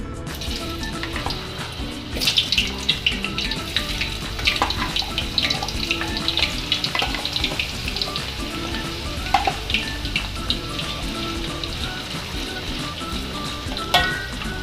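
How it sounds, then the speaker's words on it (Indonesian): Loud, busy sizzling of potatoes frying in hot oil, a dense crackle throughout with a few sharper pops and clatters. "Ini minyaknya udah panas. Sekarang kita masukin kentangnya."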